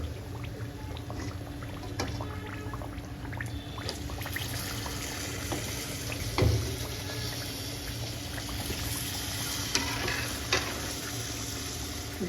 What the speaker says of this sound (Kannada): ಇದು ಗೋಲ್ಡನ್ ಬ್ರೌನ್ ಬರೋವರೆಗೂ ಚೆನ್ನಾಗಿ ಫ್ರೈ ಮಾಡ್ಕೊಳ್ಳಿ.